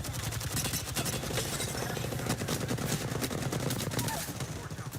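Rapid automatic gunfire in the Apex Legends video game, a dense, loud stream of overlapping shots filling the whole stretch with no pauses.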